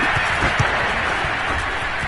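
A stadium crowd roars in a steady, dense wash of cheering and applause after a touchdown in a Broncos versus Buccaneers football game, loud and continuous throughout.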